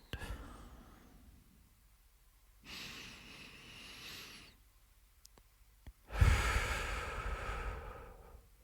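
Slow, deep breaths come during a guided relaxation meditation: a faint inhale, then a longer exhale, then a louder, closer breath, with quiet gaps between them and no talking.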